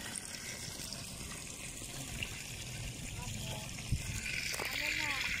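Free-flowing fresh water trickles and gushes steadily in the background, a constant watery wash with a few small splashes, while people talk over it.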